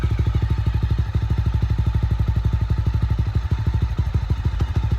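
A Mahindra Mojo 300 BS6 single-cylinder motorcycle idles with a steady, rapid thumping beat, close and even, with no talk over it.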